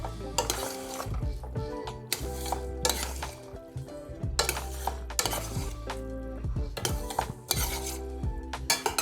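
Rigatoni being stirred in a metal pan with Parmesan and basil, giving repeated scraping, clinking strokes in a steady rhythm with a faint sizzle underneath, close and moderately quiet.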